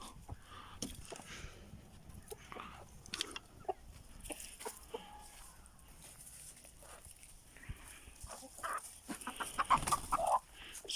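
Hens cluck and murmur on and off at close range, with scattered scuffling and footstep sounds and a few louder calls near the end.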